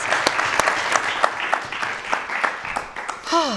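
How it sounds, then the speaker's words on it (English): A room applauds the Juilliard horn players after a live performance, moderate rippling handclaps from a small audience, ending with a voice rising in a brief cheer. "a big round of applause from online and in the room for the Juilliard horns"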